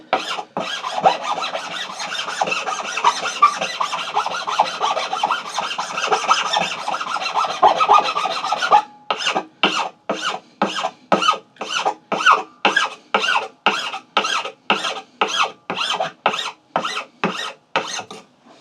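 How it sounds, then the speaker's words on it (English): A single cut file rubs back and forth over a rasp-textured wood surface, first as a continuous rapid scraping, then as a long run of evenly spaced, distinct strokes, close and loud. "So now I'm going to put the single cut file over the rasp side."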